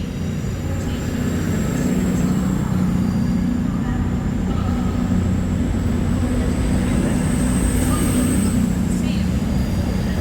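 A train rumbling steadily into Newcastle station, with a constant low, loud drone and a faint high whine running through the whole stretch.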